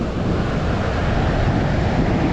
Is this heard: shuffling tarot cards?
no